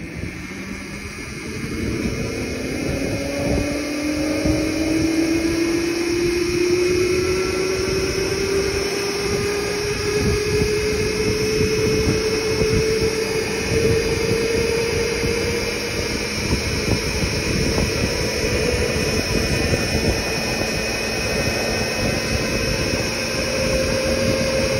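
Modified three-wheeler golf buggy with a 1000W 48V electric motor driving outdoors, a steady rising motor whine over constant wind and road rumble throughout, loud and close with no talk.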